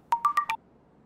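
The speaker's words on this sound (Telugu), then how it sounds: "అబ్బాయి ఫోన్ చేస్తున్నాడు" Four quick electronic beeps sound in a fast, even burst, like a short ringtone, followed by near silence.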